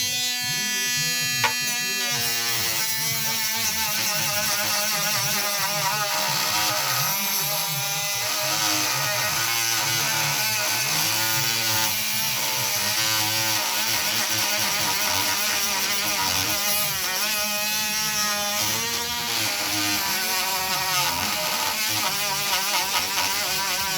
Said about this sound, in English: About one place till we grind it out.